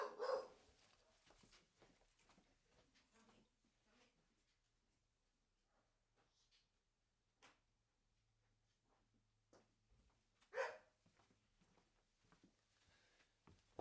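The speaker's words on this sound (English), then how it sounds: "The old dog going off." A dog indoors barks in the background, two short bursts of barking, one at the start and one near the end, with long quiet stretches between them.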